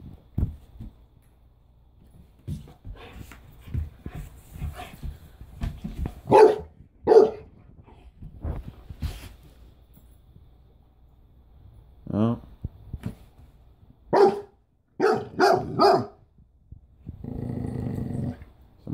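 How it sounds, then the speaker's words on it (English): A six-month-old Berni-Berger puppy lets out several loud, deep barks in separate bursts, with a low growl near the end, while people talk around it. "Someone's got a big bark."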